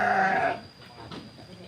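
A single Etawa goat lets out one loud, close bleat lasting about half a second, followed by faint farmyard background noise.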